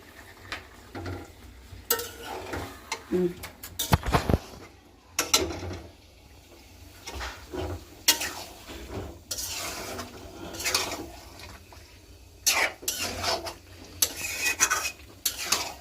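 Food being stirred and sautéed in a pan for lunch, with repeated scraping and clattering of a spoon against the metal over a soft background sizzle, fairly close.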